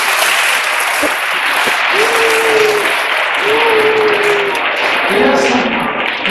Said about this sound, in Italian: un applauso Martina